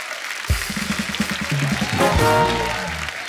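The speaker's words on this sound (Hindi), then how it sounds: "जोरदार तालियां अर्चना जी के लिए।" Loud studio audience applause on a Hindi comedy talk show, a dense burst of clapping and cheering that swells and holds as music plays over it.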